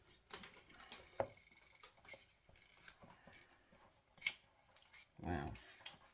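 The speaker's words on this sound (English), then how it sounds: "So we'll cut a piece of this one." Cutters work through a length of heavy duty cable close by, making repeated crunching snips and clicks with one longer grinding cut near the end; soft handling noise runs between.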